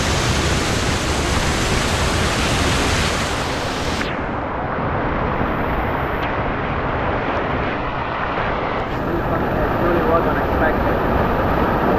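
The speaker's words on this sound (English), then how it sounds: "This is our first stop, a small waterfall in the middle of the," A small waterfall in the remote dunes of Lençóis Maranhenses, Brazil, pours as a steady, loud, broadband rush that continues unbroken for the whole stretch.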